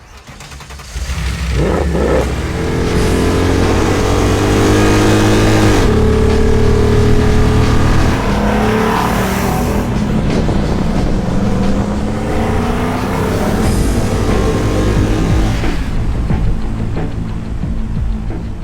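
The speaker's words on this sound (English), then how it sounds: "It's an AMG Hilux, or it's a Hilux Bakkie, or a little pickup truck, whatever you want to call it, with a 63 AMG motor in it." A Toyota Hilux pickup fitted with a Mercedes 63 AMG V8 engine runs loudly and steadily, its deep engine note rising and falling with revs throughout, close to the microphone with no talking.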